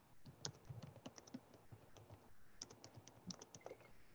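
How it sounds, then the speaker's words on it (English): Fingers type on a computer keyboard, a quiet, close run of irregular key clicks in short bursts with brief pauses and no talk. "And I'm just typing in"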